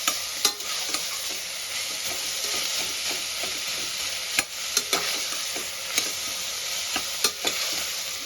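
Onions frying in a pan for South Indian style tomato rice, a constant close sizzle and hiss broken by scattered clicks and taps of a spoon stirring, no voices.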